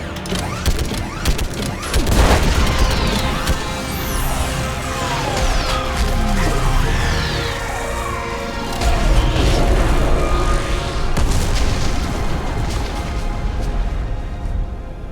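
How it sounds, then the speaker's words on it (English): Orbital strike explosions from a starship fleet against a live Reaper in Mass Effect 3, a long sustained roar of booming blasts, crashes and rumbling debris with whining sweeps, loud and dense throughout. "I need an orbital strike."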